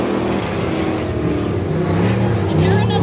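Race cars rumble in a single-file pack on a dirt oval at Dirtona Raceway, a dense, steady engine roar holding loud throughout with rising revs near the end, while a commentator's voice talks over it.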